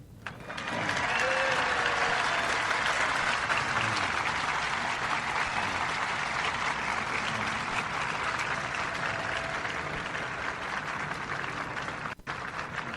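Sustained crowd applause greets the Pope on his visit to America: a thick, even roar of many hands clapping that holds steady for a long stretch, with faint voices underneath and a brief dropout near the end.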